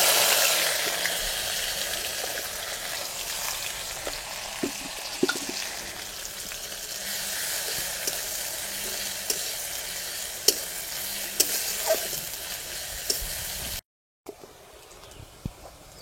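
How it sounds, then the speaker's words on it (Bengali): Onion frying in hot oil with bay leaf, dried chillies, cumin and cardamom, a steady close sizzle with occasional spatula scrapes and pops, briefly cutting out near the end. "পেঁয়াজটা ভাজা হয়ে গেছে,"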